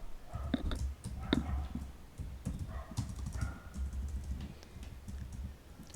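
Typing PHP code on a computer keyboard, producing a steady run of quick, light key clicks with small irregular pauses, close and clear over a low background hum.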